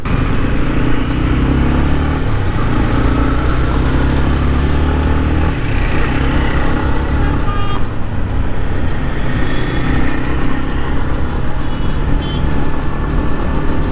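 A Yamaha MT15 BS6 motorcycle just back from its first service runs steadily on the road, its engine hum carried under continuous loud traffic and wind noise with no talking.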